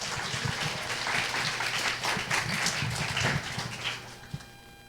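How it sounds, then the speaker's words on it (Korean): High school youth at a church service applauding a visiting professor, a full, continuous burst of clapping that thins out near the end, somewhat distant and roomy. "큰 박수 부탁드립니다."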